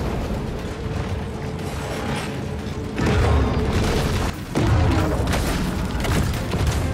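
Underwater torpedo explosions in the Maneater video game, with a continuous loud rumbling underwater roar broken by two heavy booming surges, dense and close.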